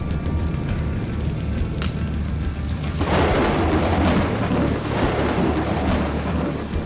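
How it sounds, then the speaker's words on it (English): A sea storm roars in an animated short film, with rumbling thunder and a steady wash of rain and surging water, loud and unbroken throughout. "The storm surged and waves soared above him."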